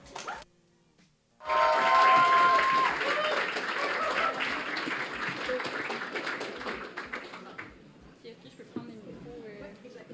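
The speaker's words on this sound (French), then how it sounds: "on peut l'applaudir chaleureusement" After a brief near-silent moment, an audience breaks into warm, sustained applause that gradually thins out, with scattered claps lingering at the end.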